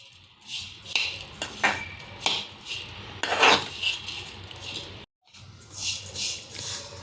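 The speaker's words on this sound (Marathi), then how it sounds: "एक 5 मिनिट आपल्याला ही सतत हलवत राहायची आहे" A spoon repeatedly scrapes and rasps through moong dal flour roasting in ghee in a pan over medium heat. The strokes are irregular and close, with a brief silent gap before the stirring resumes.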